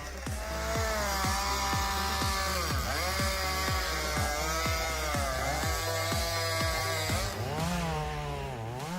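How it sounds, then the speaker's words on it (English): A giant chainsaw cuts through wood at an outdoor demonstration, its engine roaring loud and close with a steady buzzing drone that repeatedly surges and dips in pitch as it bites, then rises near the end. "giant chainsaw wood cutting demonstration"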